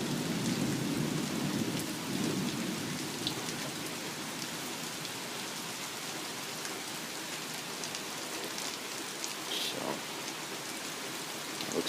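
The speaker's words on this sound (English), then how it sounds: "Lots of lightning and thunder with this one." Heavy morning thunderstorm rain falls steadily on surfaces while low thunder rumbles at the start. Scattered drop impacts sit over a constant hiss, with no voices.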